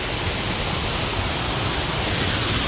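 Hogs Falls on the Bruce Trail in Beaver Valley pours with a steady, loud, broadband roar heard up close at the edge, an unbroken rush of falling water with no voices.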